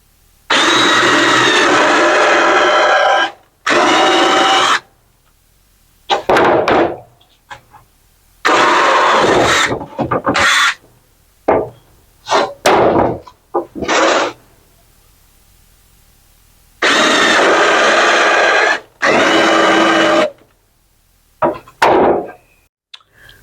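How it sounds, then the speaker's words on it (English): Power drill boring holes into a marquee letter, in repeated loud bursts of a few seconds each, separated by short quiet pauses and quick trigger taps. "he start in the front drilling the hole"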